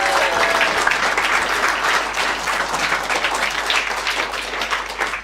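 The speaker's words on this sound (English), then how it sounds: "Round of applause for Wasim Youssef" Sustained audience applause at a Palestine solidarity gathering, dense steady clapping from a sizable crowd that holds at full strength for the whole stretch with faint scattered voices mixed in.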